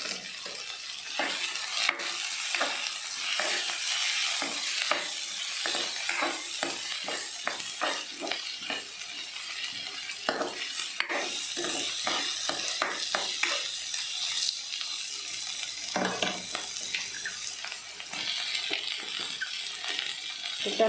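Garlic and ginger frying in a pan for a mutter paneer masala, a constant close sizzle broken by quick scraping stirs, with no talking.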